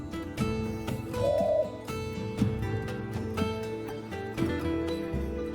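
Kuklo, a little bird in the game Ode to the Second Sunrise, coos softly in repeated dove-like notes over steady layered game music, with no talking.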